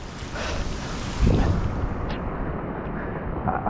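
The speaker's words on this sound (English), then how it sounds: "I think the wind is still picking up." Strong Hurricane Ian wind roars across a flooded Charleston, South Carolina street, a loud continuous rush with heavy buffeting gusts battering the microphone, one especially hard blast near the middle.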